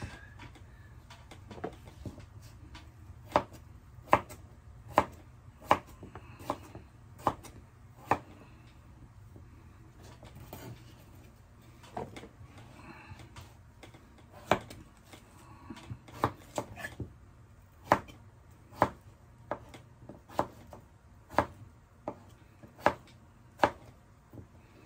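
Knife chopping potatoes on a cutting board in a home kitchen, a long series of sharp, evenly spaced knocks in steady bursts with short pauses, fairly close with faint room hum and no talking.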